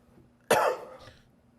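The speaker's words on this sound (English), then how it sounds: "Let me just cough real quick." A single sharp, throaty cough bursts out after a short quiet moment, loud and close, then trails off into a softer rasp within about a second.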